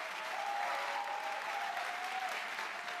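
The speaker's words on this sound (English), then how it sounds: "One final round of applause for our speakers." Steady, fairly quiet applause from an audience for speakers at an evening event, continuous for the whole stretch and heard from some distance.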